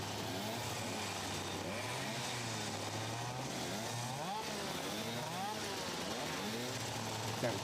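A 1992 Zip Eagle racing kart with a Rotax 256 engine revs with a buzzy, rising and falling two-stroke whine during a historic demonstration at Shenington, while a commentator talks over it.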